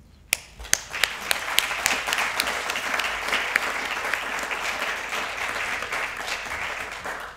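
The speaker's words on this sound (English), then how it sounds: "Please join me in applauding them." An audience at an award ceremony applauds winners, starting with a few sharp separate claps that quickly swell into sustained, fairly distant clapping.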